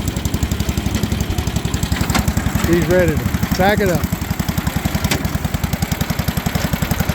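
Small old stationary engine running at a tractor and engine show while powering a hay baler, a steady rapid putt-putt firing rhythm close by, with someone talking briefly over it.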